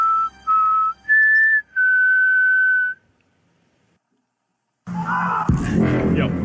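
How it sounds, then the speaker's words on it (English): A person whistles several sustained, steady notes up close, then stops; after a short silence, rustling and other noise begin. "All we have to do is whistle."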